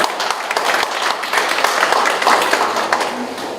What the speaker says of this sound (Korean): 큰 박수로 환영합니다